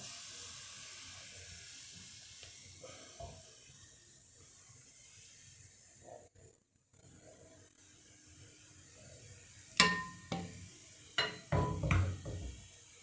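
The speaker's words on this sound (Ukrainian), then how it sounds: "І продовжуємо смажити." A steady sizzling hiss of pancake batter frying in a hot pan runs throughout, followed by several sharp clanks and scrapes of utensils near the end.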